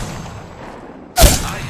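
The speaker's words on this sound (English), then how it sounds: "The enemies are shooting at me!" Enemy gunfire in the Apex Legends video game: one sudden loud blast cuts in near the end after a quieter stretch, then decays into a rumbling tail.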